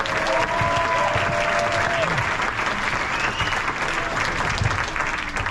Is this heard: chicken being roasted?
no